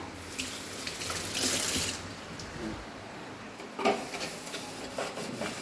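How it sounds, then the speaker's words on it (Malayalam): Tap water runs steadily in a home kitchen during washing up, a close, continuous splashing flow with brief rubbing and surges, and no voices. "നമുക്ക് കഴുകാം."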